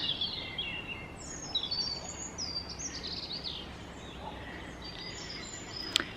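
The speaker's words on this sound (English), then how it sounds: "can you hear those birds?" Birdsong in a spring woodland: several small birds chirp and trill at a moderate distance, with scattered short calls over a steady outdoor hush and no talking.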